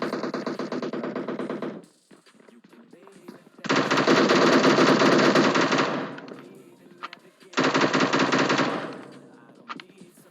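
Rapid full-auto M762 rifle fire in PUBG Mobile comes in three loud sustained bursts separated by short quieter gaps.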